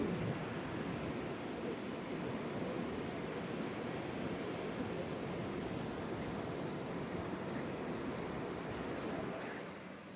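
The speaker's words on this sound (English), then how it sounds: "I'll let you hear some waves if you want to." Gulf of Mexico surf on a Texas beach, a steady broad wash of waves rolling in with breezy wind noise, constant and fairly soft, easing slightly near the end, no voices.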